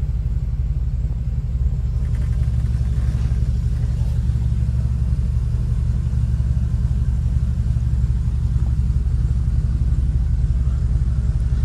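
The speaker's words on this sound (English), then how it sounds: "I'll leave it running so you can hear it when I show you the engine bay." A 1979 Mercedes-Benz 450 SLC idles steadily, its low, even engine rumble continuous and close throughout, with no speech over it.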